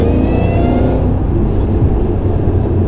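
A modified supercharged Shelby GT500 Mustang making 663 wheel horsepower roars loud and close under hard acceleration, a dense continuous engine drone that thins slightly toward the end.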